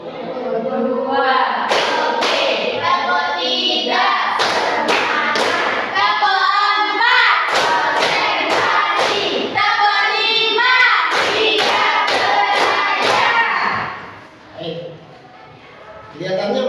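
Rhythmic group hand clapping from a classroom concentration-clap ice breaker game, with bursts of sharp claps in patterned sequences, loud and close, mixed with voices calling along.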